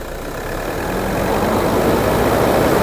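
A Toyota car, a 2012 automatic, second-owner, holds a loud, dense engine roar that swells gradually over a few seconds, heard up close with no talking.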